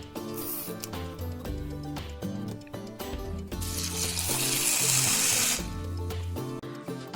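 Steady running water pours onto split peas (pattani paruppu) for soaking for several seconds, swelling louder midway, with tonal mechanical hum and clatter underneath.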